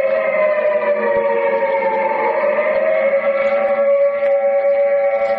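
Air raid siren in a wartime radio drama, a loud sustained wailing tone with layered harmonics that holds steady and slightly wavers throughout, heard alone without speech.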